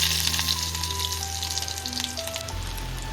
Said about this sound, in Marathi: तेल छान असं गरम झालंय आपण त्यामध्ये आता लसूण घालून घेणार आहोत